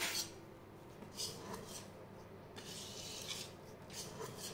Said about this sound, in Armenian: Ու շարունակում ենք խառնել։